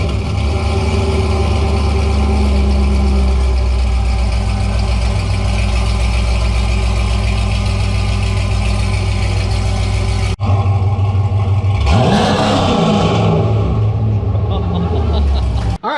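C6 Corvette V8 firing up for the first time on Speed Engineering long-tube headers, a loud, close, steady rumbling idle that cuts out and then restarts with a sharp rev flare before settling again.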